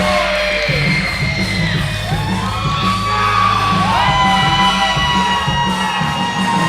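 A standing-room-only wrestling crowd at a three-way Southern States title match fills the arena with loud, sustained cheering, whoops and yells that carry on without a break.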